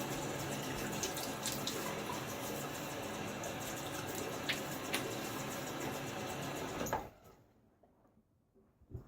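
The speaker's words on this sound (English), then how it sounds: "Splash some face." Running water and splashing at a bathroom sink as a face is wetted before a wet shave, a steady broadband wash for about seven seconds that cuts off abruptly, leaving near silence.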